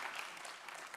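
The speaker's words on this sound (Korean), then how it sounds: "우리 박수로 힘을 좀 주십시다." A church congregation claps to encourage a group of new members standing before them, a brief burst of soft, even applause heard from a distance.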